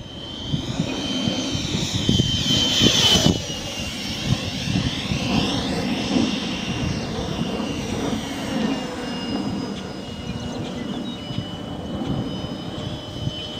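A Freewing F/A-18E radio-controlled model jet flying overhead, its ducted-fan whine rising and sweeping past with a louder pass early on, then a steady airborne rush as it moves off.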